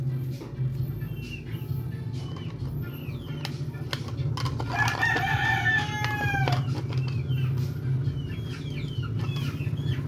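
Roosters crow a few times over a background of softer clucking and chatter from chickens nearby, with scattered sharp bird calls.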